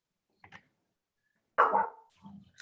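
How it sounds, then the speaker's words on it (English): A dog barks once loudly nearby after a couple of faint yips, with quiet gaps in between. "sorry about the barking dog."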